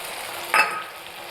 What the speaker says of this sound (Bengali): মাছ ভাজা তেলেই আমি দিয়েছি কাঁচা পেঁয়াজ, টমেটো আর কাঁচা লঙ্কা।